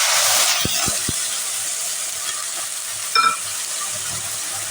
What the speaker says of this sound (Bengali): কড়াইয়ে সাদা জিরা ফোড়ন দিয়ে দিলাম, একটু হলুদ দিয়ে দিলাম